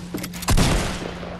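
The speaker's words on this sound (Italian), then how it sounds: "Queste granate non le potevo lanciare peggio." A grenade blast in a shooter video game: one sudden loud booming burst that decays over about a second, with faint gunfire-like crackle before it.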